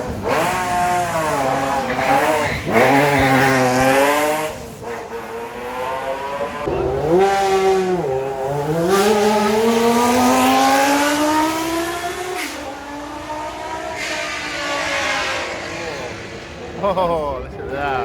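A vintage Ferrari engine revs loudly and steadily, its pitch climbing and dropping in repeated sweeps for the whole stretch.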